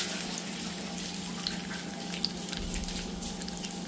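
Curry leaves and mustard seeds crackle in hot oil for a tadka, a low continuous hiss with small pops and spits, close but quiet, with no speech.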